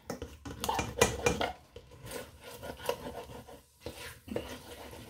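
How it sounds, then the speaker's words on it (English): Utensil scraping and rasping against the bottom of a cooking pot where ham, bacon and onions have cooked down for seafood chowder, with irregular close scrapes and metallic clinks, no talking. "you can really scrape the bottom just to get that flavor out"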